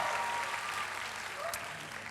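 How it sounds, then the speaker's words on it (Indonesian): Congregation applauding during a church sermon, a steady wash of clapping that fills the space at an even level from start to finish, with no voices over it. "Berikan tepuk tangan yang meriah."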